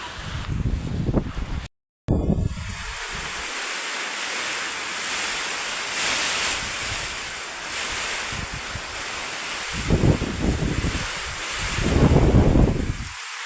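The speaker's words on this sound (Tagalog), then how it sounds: "Grabe, ang lakas ng hangin." Strong typhoon wind roars and gusts continuously against the microphone, with a rushing, surf-like sound and a brief dropout near the start, among banana trees.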